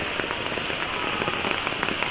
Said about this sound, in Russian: Посмотрите, какой град в Мерсине.